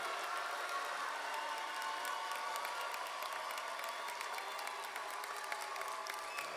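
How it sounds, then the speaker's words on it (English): Graduates at a college commencement ceremony receive a sustained round of applause from the audience, a steady, moderately distant wash of many hands clapping with scattered cheers throughout. "Please join me in a round of applause for all of our graduates"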